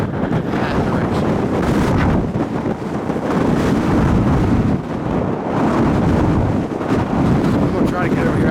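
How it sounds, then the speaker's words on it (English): Strong wind blows on a mountain top in Rocky Mountain National Park, Colorado, buffeting the microphone with a loud, continuous roar that surges and eases in gusts. "I'm going to try to get over here out of the wind."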